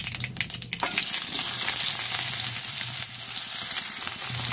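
Sliced onions and dried red chillies fry in hot oil, a dense continuous sizzle that flares up loudly after an initial clatter and stays steady and close.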